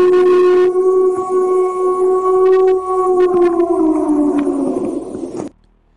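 A purported Bigfoot scream, a single loud steady held note with strong harmonics, starting abruptly without ramp-up, sustaining for about five seconds, then sliding slightly downward before cutting off.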